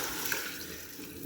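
Water is poured into a cooking pan of sautéed tomato, capsicum and pumpkin, giving a brief, steady rushing splash that runs unbroken to the end.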